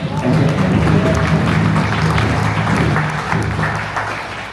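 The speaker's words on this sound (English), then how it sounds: "Let's give her a round of applause." An outdoor audience at a Navajo music and dance event in Page, Arizona applauds a young jingle dress dancer, a loud, sustained crowd clapping with a low murmur of voices underneath that eases off toward the end.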